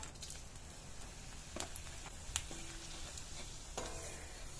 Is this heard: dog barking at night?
no